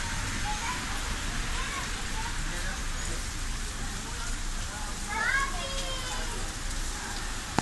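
Dense, steady heavy rain pours down in Florianópolis, Brazil, in a continuous hiss, with a faint distant voice briefly rising partway through.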